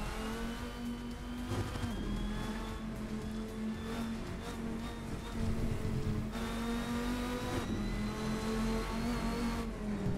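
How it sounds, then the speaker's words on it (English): Loud GT race car engine in the video game Assetto Corsa revving and shifting, pitch climbing then dropping between gears, a sustained roaring whine close up with no voices. "Road cars should sound like this."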